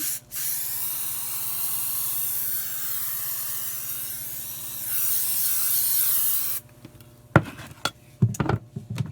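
A spray can hisses in a long, steady burst for several seconds, then stops, followed by a few light clicks and handling knocks.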